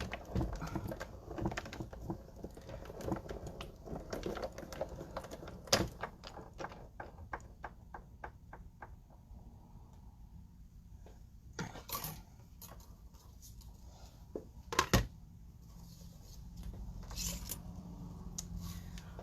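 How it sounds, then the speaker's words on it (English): A die cut machine running an ear plate through, giving a series of rapid mechanical clicks and taps that speed up, then scattered louder clacks and thumps, fairly quiet and close. "let me just run this through the die cut machine real quick"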